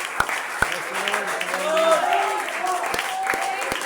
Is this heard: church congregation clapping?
yes